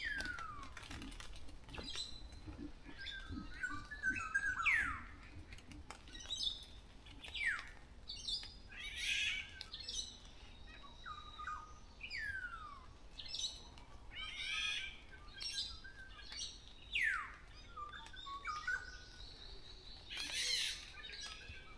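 Wild birds calling in a morning forest canopy, with repeated sharp descending whistles and chirps from several directions, some near and some farther off, over a quiet ambient background.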